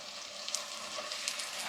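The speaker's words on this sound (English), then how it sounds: "That's a good sound when you get that sizzle going." Chicken pieces sizzling and frying in hot melted butter in a pan, a continuous close crackling hiss with small pops, no talking.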